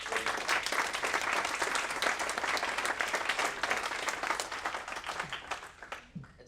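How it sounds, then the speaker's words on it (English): An audience at a panel discussion gives the speakers a round of applause, full and steady clapping across the whole stretch that thins slightly at the close. "if you can give them a round of applause"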